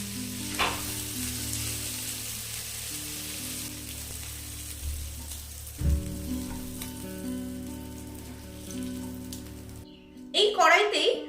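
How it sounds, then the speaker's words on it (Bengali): Prawns frying in hot oil in a pan give a steady, close sizzle with occasional stirring, under a sustained musical tone and a louder crackle near the end. "চিংড়িগুলো খুব ভালোভাবে ভেজে নিয়েছি"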